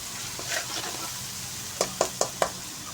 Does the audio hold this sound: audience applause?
no